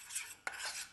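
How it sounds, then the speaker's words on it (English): A spatula scrapes and stirs udon noodle stir fry with sauce in a pan, giving a quiet, brief, close rasping swish with one sharper clink midway. "give a little stir"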